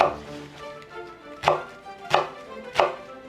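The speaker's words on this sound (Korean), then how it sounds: "잘라주셔서 자그맣게 나박나박하게 썰어주세요" A knife chops radish into small pieces on a cutting board, three crisp sharp chops spaced evenly apart, close and clear, with quieter cutting sounds between them.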